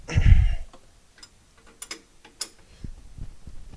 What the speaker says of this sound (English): grab yourself a wrench, put it on your suspension. Make sure they're nice and tight.